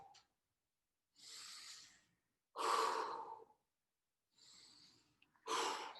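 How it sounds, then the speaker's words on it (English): Deep, audible breaths during a fitness workout: several long inhales and exhales, each a breathy rush, with short silent gaps between them. "get a few more nice big inhales and exhales"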